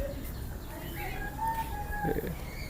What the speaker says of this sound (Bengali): ছোট ময়ূর পাখি মনে এটা